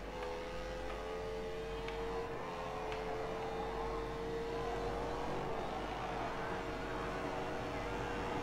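A motorcycle engine held at full throttle while racing in MotoGP 17 at Le Mans, a steady high whine with rising tone that continues unbroken throughout.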